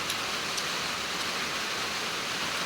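Rain falls steadily outdoors in a constant, even hiss, no voices over it.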